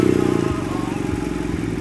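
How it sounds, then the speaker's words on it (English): A BMW F800R motorcycle engine starts and settles into a rapid, steady idle thrum, close and fairly loud, with a quick burst of starter clatter at the beginning. "so I'll start the bike up"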